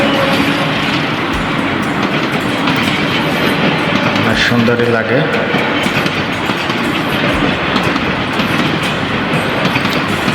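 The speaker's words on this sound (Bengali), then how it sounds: "এখন একটা ট্রেন আসতেছে, কমলাপুর থেকে সাইডে আসলো" A train rolls past on the line out of Kamalapur toward Narayanganj, a steady loud rumble with clickety-clack of wheels on rails throughout, while a person speaks briefly over it.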